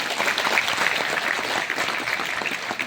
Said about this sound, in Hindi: मैं चाहता हूँ ऐसे प्लान के सम्मान में जोरदार ताली हो जाए एक बार